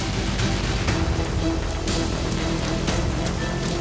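Steady rain falls on a building rooftop where a garden is being built with soil and trees, a dense, continuous patter of drops with scattered sharper splashes, fairly loud and close, with no voices.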